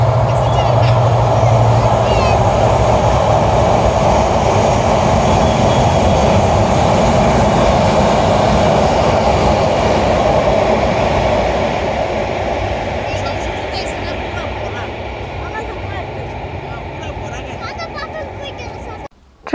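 A train rolls past near a bridge with a loud, steady rumble and clatter of wagons that holds for most of the stretch, then fades away toward the end.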